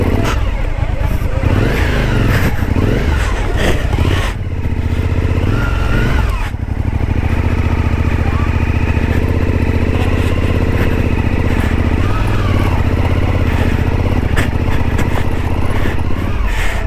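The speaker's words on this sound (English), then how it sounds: "That was wheel spinning a little bit, wasn't it?" A motorcycle's rear wheel spins in mud, its engine loud and close, revving and surging in uneven pulses before settling into a steady, strained drone.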